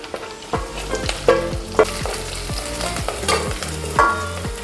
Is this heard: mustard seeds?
yes